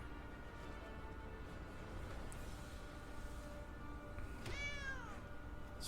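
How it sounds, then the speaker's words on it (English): A cat gives one short, rising-and-falling meow near the end, faint against a quiet, steady background hiss. "That's a kitty."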